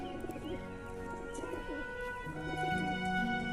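Pigeons coo softly in repeated low, rolling phrases, several birds overlapping against a steady background hum.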